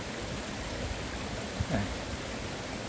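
A mountain valley stream at the entrance to Soyosan flows as a steady, even rush of water, faint and continuous, with a brief soft bump near the end.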